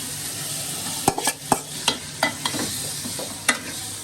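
Spices being stir-fried for Bangladeshi chicken biryani, with a low steady sizzle broken by a series of sharp clacks and scrapes of a spoon against the pot, some close together and others spaced out.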